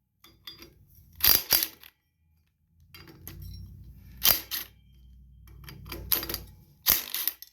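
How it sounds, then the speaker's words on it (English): Ratchet with a 1/2-inch socket working bolts loose on a 2007 Wacker WP1550 plate compactor, heard as close bursts of rapid clicking in several separate runs with short pauses between them. "you would need a 1/2-inch socket. We need to take these 4 bolts off right here"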